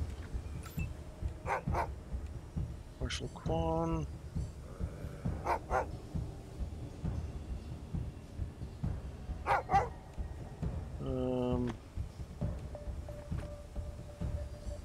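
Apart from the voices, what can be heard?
dogs whimpering in the video game Wasteland 3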